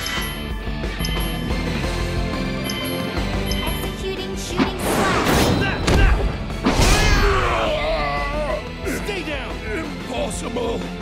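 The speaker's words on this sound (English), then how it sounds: "Executing shooting slash!" A shooting slash attack lands in Fairy Fencer F: Advent Dark Force, with loud crashing whooshes and impacts peaking midway over dense battle music, and character voices shouting around them.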